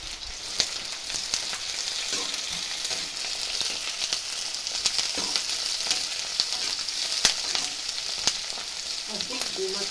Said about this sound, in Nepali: चिकन फ्राई गर्दैछु